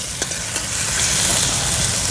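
Chopped onion dropped into hot oil with toasted cumin, a loud, steady close-up sizzle and frying hiss filling the whole moment without pause.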